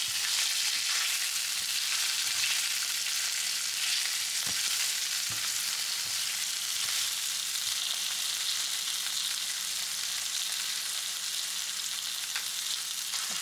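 Fish sizzles steadily on a grill, a dense, even hiss of frying that stays close and constant throughout, with a few faint clicks and no talking.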